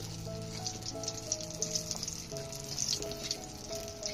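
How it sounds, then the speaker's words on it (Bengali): Sun-dried kalai dal (lentil) bori dumplings fry in hot oil, a steady crackling sizzle with bursts of spattering pops, overlaid by sustained tonal background music. "এবার বড়ি কটা ভেজে তুলে নি"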